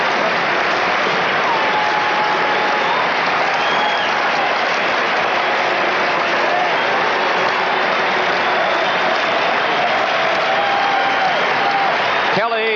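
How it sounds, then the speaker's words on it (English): A baseball stadium crowd at a 1979 ALCS Game 4 between the Orioles and the Angels cheers and roars loudly and without a break, urging a strikeout with DeCinces at bat, a dense mass of crowd noise with whistles and shouts. "Crowd asking for a strikeout or double play."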